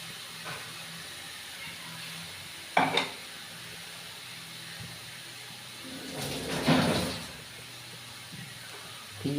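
Grated coconut and chopped mulberry leaves being stirred in a hot pan, with a soft steady sizzle and a few louder scraping stirs of the spoon against the pan.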